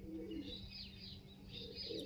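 A pet pigeon, one of a prized loft bred from a known bloodline, coos softly in low repeated murmurs, faint and close, with light chirps around it.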